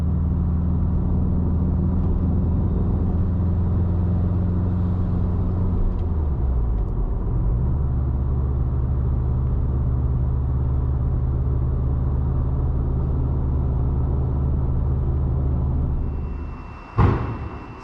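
A Subaru STI engine pulls hard under acceleration while driving, a steady loud rumbling drone that dips as the gear changes, then keeps pulling before a sharp knock near the end.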